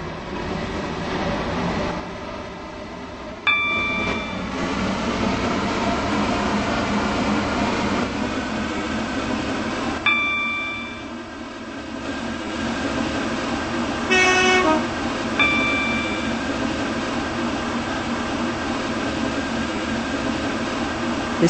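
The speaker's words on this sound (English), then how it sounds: "This train is now approaching Stepford Airport Central." A train in a video game rumbles steadily along the track approaching a station, with a few brief horn toots and chimes cutting through the continuous rolling noise.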